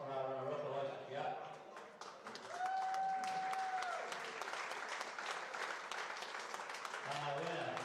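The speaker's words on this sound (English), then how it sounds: "Can we just get a round of applause for our runner-up, Aloysius Jaap?" Applause rises for the runner-up at the Scottish 9 Ball Open final, sustained clapping from a crowd that carries on under a tonal sound and a public-address voice.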